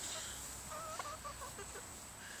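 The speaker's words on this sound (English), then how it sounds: "And here I'm with my three bantam chickens here." Three bantam chickens cluck softly in a short series of faint, close calls against a steady background hiss, with no voices.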